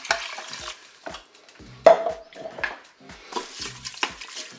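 Rice and broth going into a Cookeo pot with chorizo, bursts of stirring and scraping with a sizzle, several separate scoops and pours spaced by short pauses, close.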